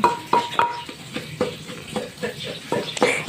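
Repeated thudding knocks of a pestle pounding in a mortar, an irregular rhythm of close blows with a faint clink on some strikes.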